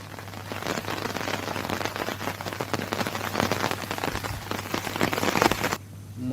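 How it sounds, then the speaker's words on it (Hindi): Steady light rain drizzles over wheat crop fields awaiting harvest in Himachal Pradesh, a dense, continuous patter of drops across most of the clip with no voices, ending abruptly near the close. "आजकल 2 दिन हो गया बारिश हो रही है, अभी फिर बूंदाबांदी लग पड़ी है।"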